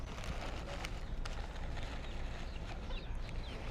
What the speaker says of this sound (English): Look at all these chickens. Many chickens.